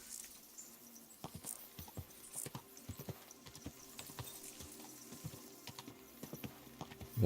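Horse hooves of an approaching rider in Kingdom Come: Deliverance II, a steady run of clip-clop hits at moderate distance, faint against quiet ambience.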